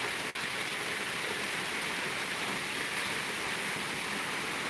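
Steady rain falls in a dense, even hiss, pattering continuously on surfaces nearby with no pauses.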